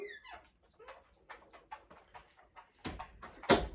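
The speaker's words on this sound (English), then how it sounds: "the dog wants to come back in for the 800th time today" A dog whimpers and gives short high whines outside a door, wanting back in, in a quiet home; the faint cries repeat in bursts, followed by a couple of louder knocks or scrapes near the end.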